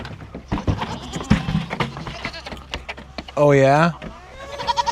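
A farm goat gives one loud, wavering bleat up close, lasting about half a second, amid rustling and scattered handling noises, with someone speaking briefly nearby.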